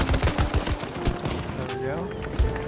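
Rapid automatic fire from the VCAR rifle in Battlefield 2042, a fast burst of sharp cracks at first that slows into scattered shots, heard close with a voice talking over it.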